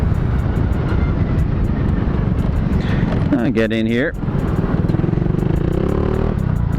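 A 2006 Honda Big Ruckus 250 scooter pulling in to the side, its small engine giving a close, steady putter with a brief rising revving sweep midway, under a rider's speech.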